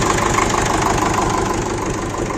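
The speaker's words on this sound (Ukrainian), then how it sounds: "Так, тракторець робить в принципі нормально." A D-65 tractor's diesel engine runs steadily nearby, a loud, continuous idle with a rough knocking pulse throughout and no voices.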